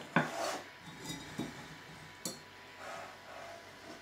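Soft scraping and a few light metallic clinks as a utensil pushes vichyssoise soup through a fine mesh sieve, quiet and close, in irregular strokes.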